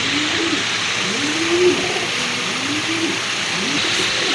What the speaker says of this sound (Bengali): খুবই সুন্দর চমৎকার কালার ফুল কবুতর এই যে দেখেন